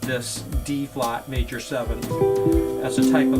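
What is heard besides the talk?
No distinct noise like a dog, phone or traffic.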